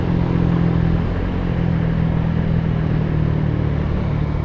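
A Honda Click scooter fitted with 1000 rpm clutch and center springs and 12 g flyballs accelerates hard on a top speed run, its engine a steady, loud droning whir with wind rumble throughout.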